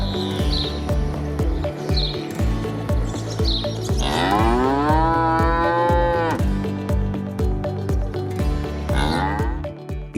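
Bison on a private ranch give deep, drawn-out grunting moos, one long bellow rising and falling near the middle, over steady rhythmic thumping machinery and scattered bird chirps.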